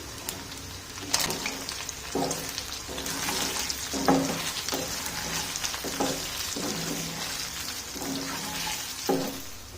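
Chicken fries in a pan with masala, a steady close sizzle broken by repeated scraping strokes of a spoon stirring at a slow, regular pace.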